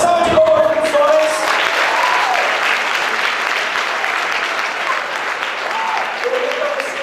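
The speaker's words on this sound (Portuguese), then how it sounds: "Uma salva de palmas para os homens." A church congregation gives loud, continuous applause for the men during a service, dense clapping mixed with some cheering and voices that stays strong throughout.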